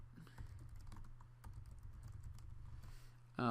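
Keystrokes on a computer keyboard as a comment is typed, soft irregular clicks over a steady low hum, ending in a brief louder burst.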